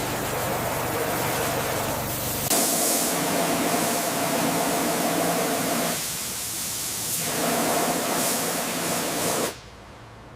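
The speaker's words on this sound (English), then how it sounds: "focusing the high-pressure spray directly onto the thickest areas of mud and grime" Steady, loud hiss of a high-pressure water sprayer blasting mud and grime off a 1967 Shelby GT500, dipping briefly partway through before cutting off near the end.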